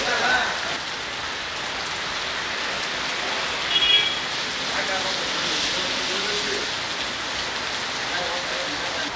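Heavy rain pours down in Belagavi district, a steady dense hiss of drops striking surfaces, close and constant throughout with a slight swell partway through.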